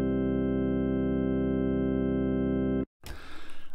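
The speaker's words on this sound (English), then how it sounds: "you want to use the white and brown ones to get a sort of rich, warm tone from the tone wheel organ." A DB33 tone wheel organ holds a sustained chord with a rich, warm, steady tone for nearly three seconds, then cuts off abruptly, followed by a short burst of noisy, pulsing sound.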